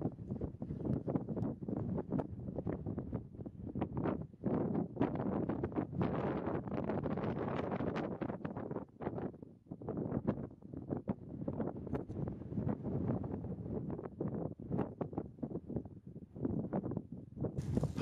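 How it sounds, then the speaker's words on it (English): Wind gusts across a high mountain ridge near the summit of Mt. Wilcox in Colorado, producing a continuous rough buffeting roar on the microphone that rises and falls, close and steady throughout. "It might be pretty windy right here."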